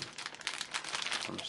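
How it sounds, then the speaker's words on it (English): A blade cutting through packing tape on an anime figure box, a continuous crinkly, scratchy rasp lasting about a second and a half, close and fairly quiet. "I'm just going to go ahead and cut that tape"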